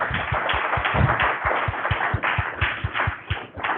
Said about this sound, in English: Everybody give Mike a big round of applause.